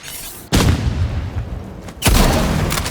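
Loud, close sniper rifle shots in a Roblox game, two sharp cracks about a second and a half apart, each followed by a booming tail and noisy rumble.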